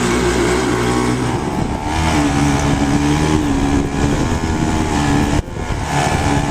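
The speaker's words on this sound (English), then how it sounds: "we can go ahead and motor sail on the way back" A sailboat's engine drives the boat while it motor-sails, giving a loud continuous droning rumble with slight shifts in pitch and a brief dip near the end, with no talking.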